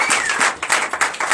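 A church congregation at a Sunday service claps rhythmically in short, loud bursts, a brisk applause that fills the room with no talk over it.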